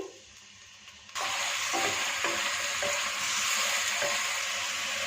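Chopped onion drops into hot oil and a bright, steady sizzle erupts, continuing loudly with occasional soft scrapes of stirring.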